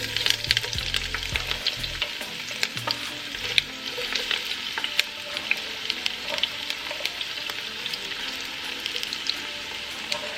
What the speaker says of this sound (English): So I have my oil on the fire. We're gonna start with our onion.